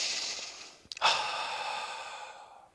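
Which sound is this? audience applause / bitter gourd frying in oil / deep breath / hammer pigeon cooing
deep breath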